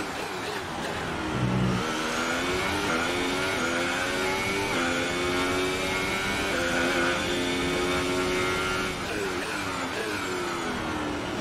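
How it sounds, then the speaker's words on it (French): A Formula 1 car in the F1 2018 racing game drives past the casino chicane at Monaco, its loud high-pitched engine revving and shifting steadily for the whole stretch. "L'attaque de la chicane du casino pour la voiture de Giovinazzi"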